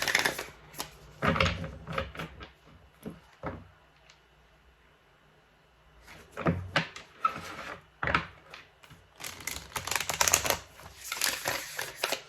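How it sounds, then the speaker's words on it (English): Bursts of tarot cards being riffled and shuffled, with a quiet pause in the middle before the shuffling resumes, close by. "Cardstock's really nice in a refill shuffle as well."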